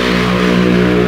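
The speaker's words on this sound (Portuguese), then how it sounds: "vou mostrar aqui o último corte de giro, a última aceleração com ela, com esse escapamento" A car engine with a sport exhaust revs hard and loud in one steady, sustained roar held throughout.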